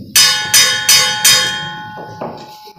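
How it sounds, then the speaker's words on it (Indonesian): A bell signals the start of a speaker's turn at a school debate competition, ringing four loud, evenly spaced metallic strikes that decay quickly, followed by two softer, shorter tones. "Dimulai setelah bunyi bel."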